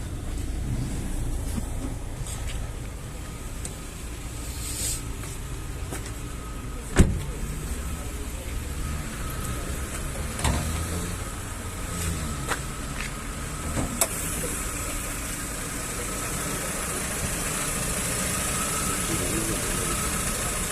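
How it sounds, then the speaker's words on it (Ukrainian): A 2013 Renault Logan engine idles steadily under an open hood with a low, even hum, punctuated by a few faint clicks and knocks, recorded up close with no talking. "Відкриємо капот, послухаємо, як працює двигун."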